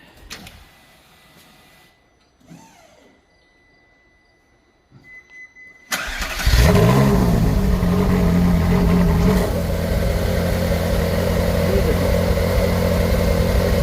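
A Ferrari F458 Spider with a Forza exhaust cranks briefly, then fires with a loud burst and settles into a steady, deep, rumbling idle close by, after a few quiet workshop clicks and rustles.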